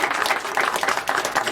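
A roomful of people at a city council meeting clapping for parents and guardians, moderately dense hand claps with a loose pulsing rhythm, steady and fairly close, with no talking over them.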